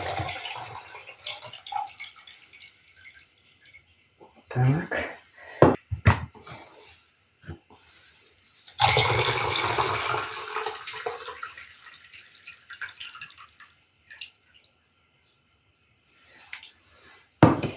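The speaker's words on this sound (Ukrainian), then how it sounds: "Буду зливати сюди воду." Water poured from a one-litre jar into a pot while making marinated courgettes, a burst of splashing pour after scattered knocks and kitchen clatter, with a brief spoken word.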